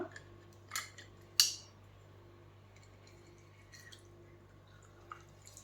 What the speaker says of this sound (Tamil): அதில் ஒரு பாதி எலுமிச்சை பழத்தை நம்ம வந்து இதில் ஊற்றிடலாம்